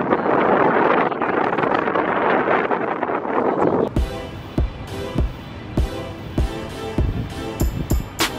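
Strong wind buffets the microphone outdoors in Liverpool near the football grounds, a loud continuous roaring rumble that then gives way to gusty thumps and crackles of wind hitting the mic in uneven bursts.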